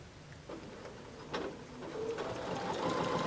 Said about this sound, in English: And then we sew down